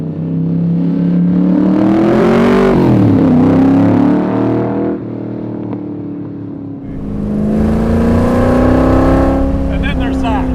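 A 2020 Superformance Cobra R engine revs hard above 3,500 RPM and climbs in pitch, drops briefly, then surges again, loud and close from inside the car.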